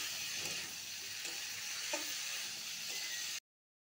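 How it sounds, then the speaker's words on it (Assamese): Meat frying in a pan until browned, a steady close sizzle with faint stirring scrapes, continuous until it cuts off abruptly near the end. "এনেকৈ ভাজি ভাজি ভাজি ভাজি লাল টিকটিকা কৰি ভাজি ল'ম"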